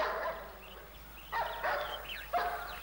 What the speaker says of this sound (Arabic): ده صوت نبح الكلاب، ما بينبحوش كده إلا لما يشموا ريحة الديابة.